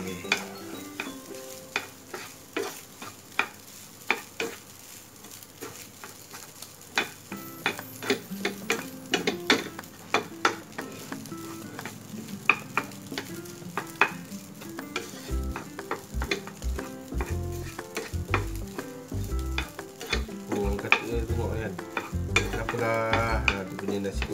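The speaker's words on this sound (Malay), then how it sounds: "kita goreng" Continuous sizzling of simple nasi goreng being stir-fried in a hot pan, with frequent sharp scrapes and clacks of a spatula against metal throughout, no talking.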